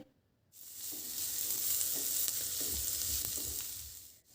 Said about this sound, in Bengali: পেঁয়াজ কুচিটাকে প্রথমে হালকা করে একটু ভেজে নিতে হবে